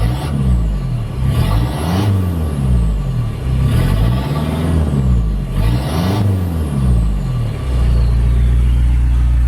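A modified JDM project car engine revs repeatedly in loud, deep surges, climbing and falling about four times before settling into a steady rumbling idle, close by with no talking.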